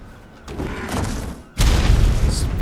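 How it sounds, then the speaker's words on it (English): A plasma blast attack in Ark Survival Ascended, a rumbling charged burst that swells, then erupts into a loud, dense boom lasting to the end, with no speech. "X is the Plasma Blast"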